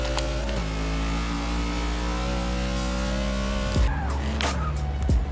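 A drag car in Forza Motorsport 6 launches with its engine screaming at high revs, then shifts and falls away with sharp rev drops near the end, loud and close with no talk.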